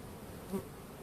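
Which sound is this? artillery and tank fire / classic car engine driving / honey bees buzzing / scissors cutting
honey bees buzzing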